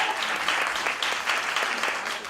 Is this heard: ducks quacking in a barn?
no